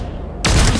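Gunfire erupts in the tactical game XCOM: Chimera Squad, a loud broadband burst of shots starting abruptly after a quiet lead-in and continuing as a dense volley to the end.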